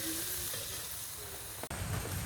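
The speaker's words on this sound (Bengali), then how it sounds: "এবারে আমি জলটা দিয়ে দিচ্ছি" Water poured into hot oil with fish in a pan hisses and sizzles steadily, with a sharp pop or clatter near the end before the sizzling resumes.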